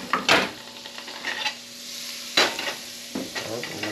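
A tablespoon of butter sizzles in a hot pan while cooking a caribou roast, a soft continuous fizz broken by a few sharp clinks and scrapes of a utensil against the pan, close and with no speech.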